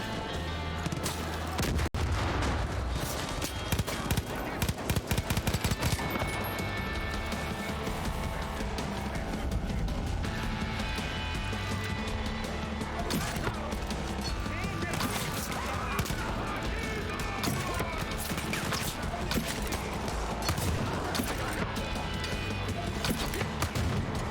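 Gunfire in Far Cry 5: dense, continuous volleys of shots and bursts with booms and crashes fill the whole stretch, loud and close, with a voice talking over the action.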